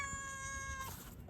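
A cat at Jamia Tul Madina gives a single clear, drawn-out meow, close and fairly quiet, fading out after about a second.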